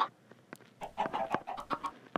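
Chickens clucking on an automatic chicken farm in a video game, a string of short, bright clucks and squawks in quick irregular bursts, fairly close and alone without talk.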